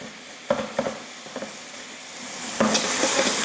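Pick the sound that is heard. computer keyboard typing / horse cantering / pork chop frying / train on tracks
pork chop frying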